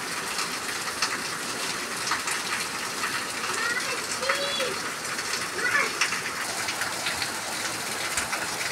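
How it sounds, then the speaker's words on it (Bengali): Afternoon rain falls steadily, a dense, even patter and wash that fills the whole stretch, with faint voices and distant sounds under it. "বিকেলবেলা কি সুন্দর বৃষ্টি পড়ছে"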